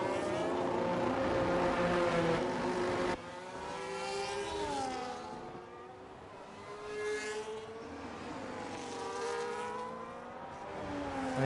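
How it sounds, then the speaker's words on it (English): Several racing cars from an F1 video game pull out of the pit lane at the Baku street circuit, engines droning and shifting pitch as they pass one after another, loud and close throughout. "You can see a Haas, a Red Bull, Mercedes, so many cars coming out of the pit lane right now"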